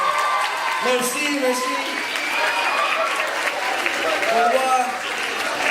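A convention panel audience in Paris applauds with dense, sustained clapping and scattered cheers while a host speaks over the noise in French.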